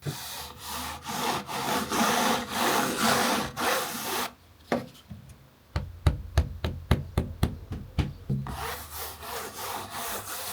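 Brush or hand rubbing across painted canvas for acrylic painting, first a long continuous scraping stretch, then a series of sharp separate strokes, then steady rubbing again, close and clear with no talk.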